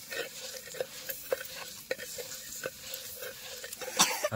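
A spoon scrapes and stirs a chopped green chili mixture in a pan, with repeated close clinks and rustling strokes in an irregular rhythm and a brief cough near the end.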